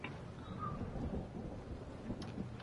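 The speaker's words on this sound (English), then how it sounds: "Y'all hear the thunder?" Thunder rumbles low and faint in the distance over a soft wash of rain, a brief steady murmur with no voices.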